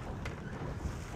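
A sailboat moving upwind in blowing wind, with wind buffeting the microphone and water washing against the hull, a short steady rush with no talking.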